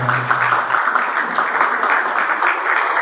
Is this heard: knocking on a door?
no